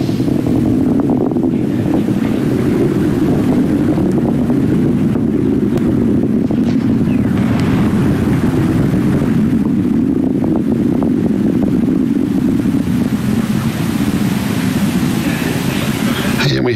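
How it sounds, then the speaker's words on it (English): Atlas V rocket carrying Boeing's Starliner climbing after launch from SLC-41 at Cape Canaveral, a continuous, dense, distant-sounding roar with a deep rumble that holds steady and loud throughout. "Mach 1, Atlas 5 and Starliner are now supersonic. Vehicle now throttling up."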